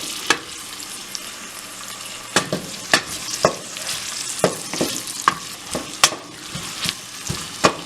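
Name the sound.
chopped onions frying and browning in pot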